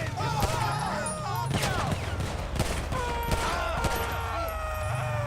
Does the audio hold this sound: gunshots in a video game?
yes